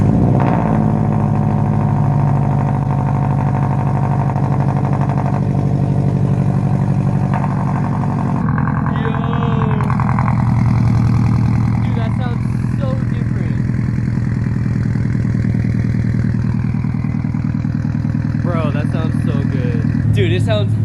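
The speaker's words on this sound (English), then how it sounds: "So cold start with a new Carven exhaust." A Subaru WRX STI with a new Carven exhaust fires up from cold after sitting for hours, settling into a steady, loud, raspy idle with a rough low rumble, close to the car and continuous throughout.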